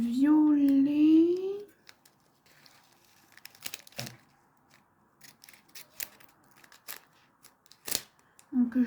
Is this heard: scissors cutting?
yes